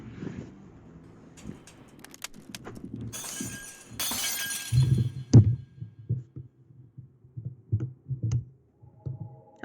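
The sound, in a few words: glass shattering effect in Famicom Detective Club video game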